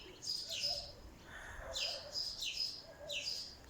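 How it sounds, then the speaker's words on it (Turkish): Small tree birds chirp and tweet in a garden in several bright bursts, close and clear over quiet background noise, with no talking. "şu kuş seslerini duyuyor musun? Ben burada öyle çok minik ağaç kuşlar görüyorum."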